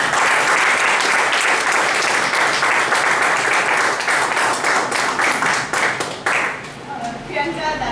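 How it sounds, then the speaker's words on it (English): Audience applause fills the room at a speech evaluation session, a dense, steady clapping that thins out toward the end as individual claps stand out. "Please give a big round of applause."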